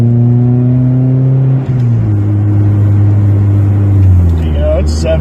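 Honda Prelude with an H22A engine cruising at normal speed, a steady loud engine drone with a single brief dip midway, the hum easing lower toward the end with a faint speaking voice over it.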